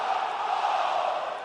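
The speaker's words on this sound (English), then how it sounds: "it sounds to me like the crowd is more than ready for this one" Arena crowd cheering in the WWE 2K20 wrestling video game, a steady dense roar of many voices heard on its own throughout the short stretch.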